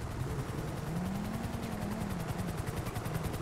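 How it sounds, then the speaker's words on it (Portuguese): A helicopter in GTA 5 roleplay gives a steady, rhythmic rotor chop over a low engine drone, holding a constant level throughout with no voices. "Belo lugar pra pousar um helicóptero ali."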